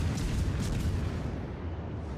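Naval gun salvos from a destroyer battle in World of Warships, a dense, continuous rumble of overlapping booms and bursts with sharp cracks early on, loud and sustained throughout without speech.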